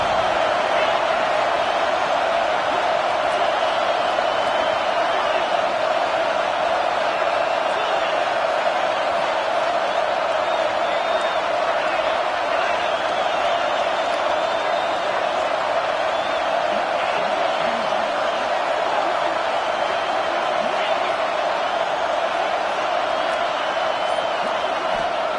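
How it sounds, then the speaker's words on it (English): Home crowd at a football game roaring in a steady, dense wall of noise that persists without letup, distant and enveloping, with voices blended into continuous cheering. "Man, this crowd really affecting the football game."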